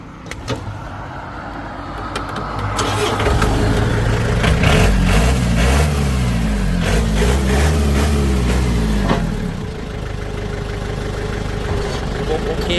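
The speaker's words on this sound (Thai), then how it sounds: "ลองสตาร์ทเครื่องยนต์ดู" A 2009 Yanmar EF453T tractor engine cranks and catches, then runs with a steady rough idle, loud and close, with a few clunks and rattles.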